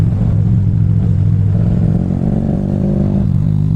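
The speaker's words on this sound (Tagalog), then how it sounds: "Ang ingay ng tambutso ni Kuya." A motorcycle with a loud exhaust rides along a city road at night in Butuan City. Its heavy, low, continuous engine rumble stays close and dominant throughout, with no voices.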